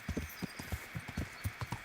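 Horse hooves galloping in the medieval video game Kingdom Come: Deliverance, a steady clip-clop rhythm of about a dozen hoofbeats, close and clear over a faint background hum.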